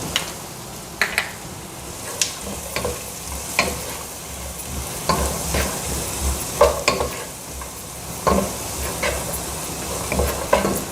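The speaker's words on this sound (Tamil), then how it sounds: "கேரட், பட்டாணி, அது தக்காளி அப்படியே இருக்கட்டும்ங்க, இதெல்லாம் போட்டு வதக்கலாம்" Carrots, peas and tomato sautéing in a pan, with a steady low sizzle under repeated scraping and stirring clicks of a spoon against the pan. The clicks come at a loose, irregular rhythm, close and clear, with no talking.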